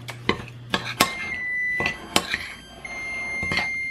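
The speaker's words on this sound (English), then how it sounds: "And then you just mix everything well." Cookie pieces being mixed with melted butter in a bowl give a run of sharp, close clinks and scrapes at irregular intervals, fairly loud, with no one talking.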